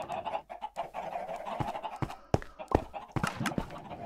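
Minecraft chickens cluck and squawk in a busy, uneven chatter with sharp clicks and knocks scattered throughout, moderately close.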